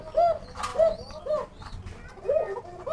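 Pigeons on a breeding farm, likely Lahori birds kept for sale, coo nearby in repeated soft, rolling calls that overlap at an uneven pace.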